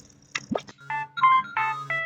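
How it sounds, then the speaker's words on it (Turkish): Phone ringing in a Toca Boca video game: a short burst of bright electronic ringtone tones in a quick stepped melody, moderately loud, after a brief few soft clicks. "Telefonum çalıyor."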